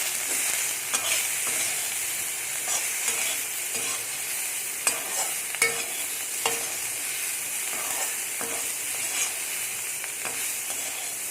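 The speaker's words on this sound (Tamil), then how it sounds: "இப்போ இதெல்லாம் சாட்டே பண்ணலாம்." Half-boiled cauliflower florets are sautéed in oil for a South Indian cauliflower fry, giving a steady close sizzle with scattered scraping stirs and small clinks throughout, no voices.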